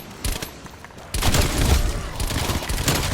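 Rapid bursts of gunfire from an OTS-9 fitted with an agency suppressor and reinforced heavy barrel, mowing down zombies in the video game Black Ops Cold War; a brief shot first, then loud sustained firing close up with no talking.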